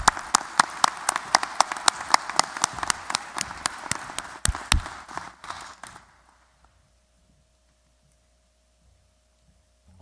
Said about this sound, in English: let's give one more big round of applause for these scholars